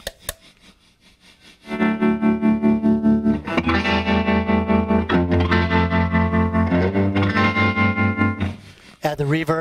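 A distorted electric guitar plays sustained chords through a Grindrod Pendragon PGC40 C212 amp, the volume pulsing in a steady, rapid tremolo throb.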